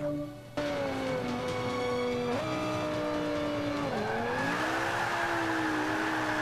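Lamborghini Veneno racing in Forza Motorsport 5, a loud steady engine roar with shifting pitch as it revs, changes gear and drifts, with tire squeal mixed in and no talking.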